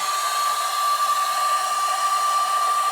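A wool carpet cleaning machine runs with its vacuum unhooked, giving off a loud, steady high-pitched whine and airy roar with a fixed tone, continuous and unbroken, with no talk.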